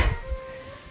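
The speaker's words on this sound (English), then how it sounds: "I love the smell of frying onions." Onions sizzle and fry as they caramelize in a pan, a soft, steady crackle heard close up with no voices.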